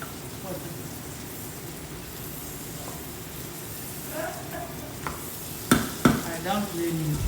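Fried rice sizzles and hisses steadily in a pan, with a few louder clatters of stirring near the end; close and continuous, with no talking.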